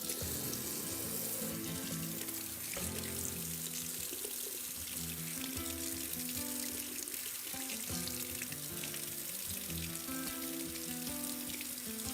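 Warm water runs steadily from a kitchen tap into a cup for a chimichanga recipe, a loud continuous rushing stream with no talking, with what sounds like background music underneath.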